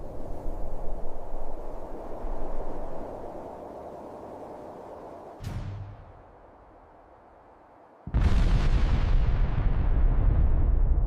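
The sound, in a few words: massive explosion, Tunguska event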